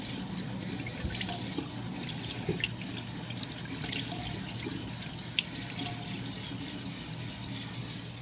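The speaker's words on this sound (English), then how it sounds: "Here's the water." Water runs steadily from a bathroom or sink tap, a continuous broadband rush with small drips and splashes throughout, fairly close and alone with no talking.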